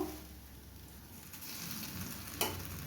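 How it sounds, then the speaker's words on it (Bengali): Tomato chutney with date aamsotto sizzles and crackles while being slowly sautéed and stirred in a pan, a soft, steady frying hiss with a brief sharper crackle near the end, no voices. "এবার এটাকে ধীরে ধীরে কষাবো"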